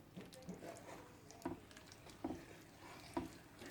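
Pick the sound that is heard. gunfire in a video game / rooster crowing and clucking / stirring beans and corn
stirring beans and corn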